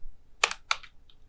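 A few quick keystrokes on a computer keyboard spell out a COUNTIFS formula in Microsoft Excel: two or three crisp, close clicks in a short burst, then a faint final tap, in a quiet room.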